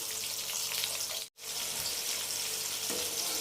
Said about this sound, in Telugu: ఇలా చక్కగా ఫ్రై చేసుకోవాలి